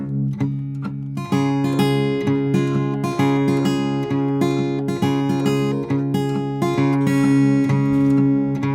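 Acoustic guitar plays a steady boom-chuck bass pattern, alternating low bass notes with strummed chords in an even rhythm, clear and close.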